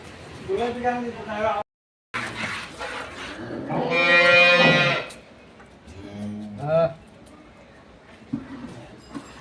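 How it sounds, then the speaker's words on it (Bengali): Dairy cows moo at an agro farm in Setabganj, Dinajpur: a long, loud, close bellow, then shorter lows. People talk between the calls. "ভাই ভাই অ্যাগ্রো ফার্মের দুধের গরু"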